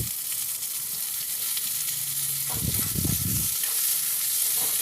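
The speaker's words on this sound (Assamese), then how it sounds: "এতিয়া কেৰাহীখনত তেল গৰম হ'বলৈ দিলোঁ, আৰু ইয়াতে দিছোঁ মই পিঁয়াজ" Onions going into hot oil in a kerahi (wok) give a steady broadband sizzle throughout, with a louder burst of frying and stirring around the middle as they hit the oil.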